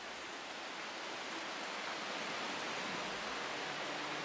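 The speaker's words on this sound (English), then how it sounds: "the noise of the waterfall you might find a bit annoying at night" A waterfall by Lake Thun roars with a dense, steady rushing noise, unbroken and even throughout, with no voices.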